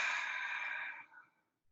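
A long, breathy exhale during a stretching exercise, close and steady for about a second before trailing off into quiet.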